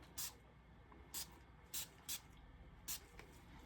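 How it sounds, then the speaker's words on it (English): Short bursts of alcohol spray misted onto UV resin snowflakes, five quick hissing puffs spaced irregularly over a quiet background, close by and fairly soft. "I'm just going to spray a tiny, tiny bit"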